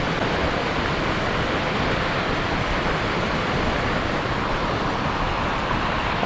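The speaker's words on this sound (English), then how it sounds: "That's a proper waterfall, that is." A large outdoor waterfall roars in a steady, loud, broadband rush that fills the whole span without letup, close and continuous with no voices over it.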